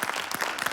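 An audience applauds at a lively hip-hop dance show, a short burst of dense, fairly faint clapping with no voices over it.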